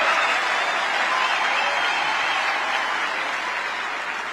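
A big round of applause from a live crowd for a Turning Point team at a political event, dense and steady clapping throughout, fading slightly toward the end with no speech over it.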